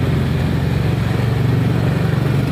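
A Yamaha Lexi 155cc scooter engine hums close and steady during a test ride, a continuous pulsing drone with mild throttle swells beneath wind noise.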